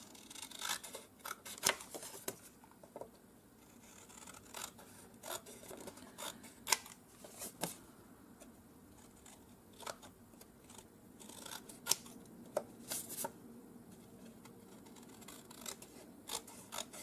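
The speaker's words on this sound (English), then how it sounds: "Just cut all this white edge off." Scissors snip through the white edge of junk mail paper, a series of sharp close crisp cuts arriving in irregular bursts with quiet pauses between, with faint paper rustling and no talk.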